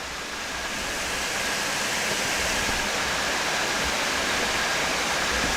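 Steady broadband rush of a forest waterfall, continuous and fairly loud with no breaks, a dense even roar filling the whole stretch without any voices.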